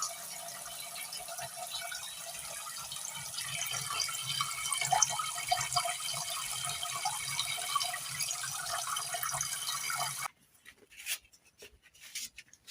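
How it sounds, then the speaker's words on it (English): Water streams steadily into a cooking pot for arrowroot and bean stew, a continuous mid-level splashing pour lasting about ten seconds before cutting off abruptly, followed by a few faint clatters. "We have to put enough water"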